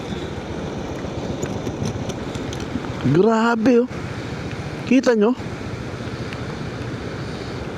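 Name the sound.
strong rushing floodwater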